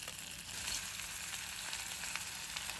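Snails sizzle and fry steadily in hot oil with golden garlic, lemongrass and chili in a small electric pot, a continuous close crackle with no talk.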